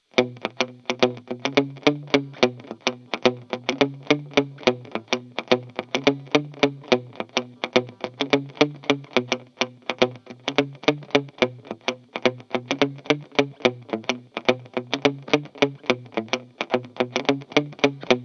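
A choppy electric guitar strums a steady reggae offbeat skank through AmpliTube 5 amp modeling with a cassette effect, lo-fi and slightly wobbly with a warm, worn tape character. It plays alone without any talking.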